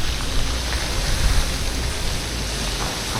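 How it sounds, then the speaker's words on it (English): Heavy rain driven by strong wind on a city street in the Philippines, a dense continuous hiss with gusty low rumbles, loud and close, no voices. "the wind is actually blowing really hard right now, and it pushes the rain right into here"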